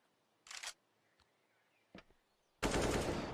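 Gunfire in a professional Counter-Strike match on the Inferno map: a short burst of shots, a faint tap, a sharp single shot, then a long loud stretch of sustained fire.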